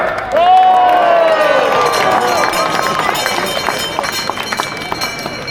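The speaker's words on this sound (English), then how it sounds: "Let's give our biggest Stratford upon Avon cheer!" Crowd at a Stratford-upon-Avon parade for Shakespeare's birthday celebrations erupts in a loud cheer with shouts and whoops, then fades into applause and scattered calls.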